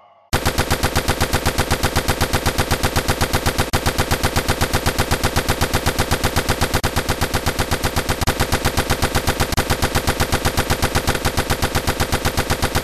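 Relentless rapid-fire machine-gun bursts in a video game, loud and dense, running steadily for about twelve seconds with no pause and no talk over it.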